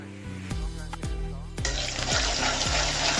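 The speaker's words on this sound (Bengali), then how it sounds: "তেল গরম হয়ে গেছে, এখন দিয়ে দেবো রসুন কুচি।" Chopped garlic dropped into hot oil, a loud bright sizzle that surges and then holds steady, with repeated low clanks of a spoon or pan against the pot in a regular rhythm over soft background music.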